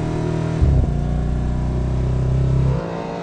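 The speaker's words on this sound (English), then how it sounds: "It's just fabulous to have that V8 soundtrack in your ears." Audi RS 5 Cabriolet V8 engine revving up sharply from a steady rumble, holding a loud, deep drone close to the listener, then dropping off as the throttle eases.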